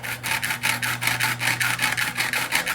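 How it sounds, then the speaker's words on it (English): A hand file cutting notches into a carbon rod, with about a dozen quick, regular rasping strokes close by, each a short gritty scrape in a steady back-and-forth rhythm, with no talk. "use the edge of the file and just file some notches into the carbon rod"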